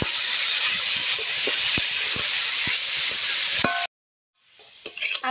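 Potatoes frying in hot oil with salt and turmeric give a steady loud sizzle with stirring scrapes, cutting off abruptly, then a fresh hiss rising as frying resumes.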